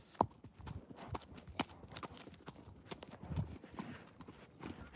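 A pony's hooves clip-clop steadily while it is ridden across the desert, each footfall sharp and close, with scattered outdoor noise around the regular walking rhythm.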